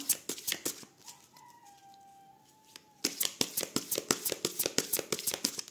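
A deck of tarot cards is cut and handled up close, with scattered crisp snaps, a quieter pause carrying a faint thin tone, then a fast run of sharp card flicks and slaps.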